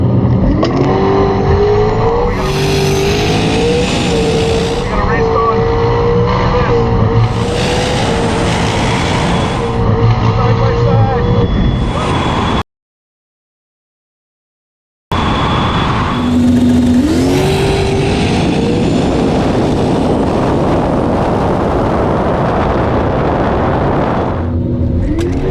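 Drag race launch between a gutted Tesla Plaid and a big-boost turbocharged Toyota Supra on a pro tree: loud, sustained engine and drivetrain roar with rising revving sweeps, a brief silent gap, then another surging run.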